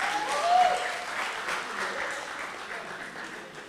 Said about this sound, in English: Please give Corey a round of applause.